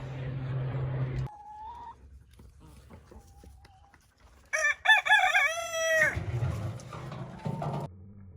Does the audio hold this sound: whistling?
no